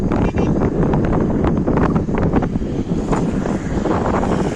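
Strong wind at Pamban Bridge in Rameswaram buffets the microphone in a loud, continuous rumbling roar with gusty surges throughout.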